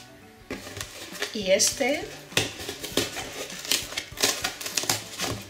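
Someone cuts a cardboard milk carton apart for reuse as a storage box, producing scattered scraping and clicking snips while a person talks.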